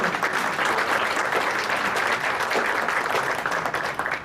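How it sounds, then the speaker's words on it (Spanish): A seated audience at a panel on personal data protection applauds a guest official, a steady, dense clapping from many people that holds evenly and stays fairly loud. "También así pido un aplauso"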